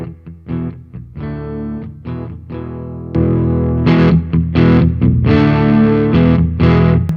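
Electric guitar through an EarthQuaker Special Cranker overdrive pedal into an Astoria amp: loud, close driven chords and riffs, sparse strummed hits at first, then sustained crunchy chords ringing continuously, with no talk.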